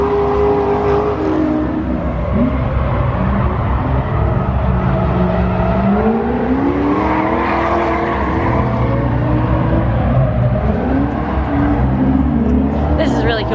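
A drift car at a drift event revs hard and loud, its engine note rising and falling continuously while people talk over it nearby.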